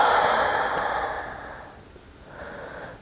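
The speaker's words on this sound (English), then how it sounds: "and exhale" A yoga instructor's long, steady exhale during a flowing practice, a soft airy breath fading over about two seconds, followed by a quieter second breath near the end, close and alone.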